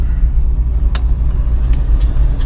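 A 1984 Cadillac Seville accelerates moderately at around 50 mph, its steady low engine and road rumble filling the cabin, with a few faint clicks on top.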